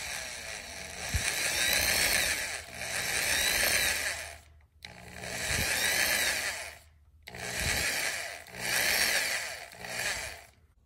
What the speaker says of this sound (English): And I'm going to lightly twist it with a drill.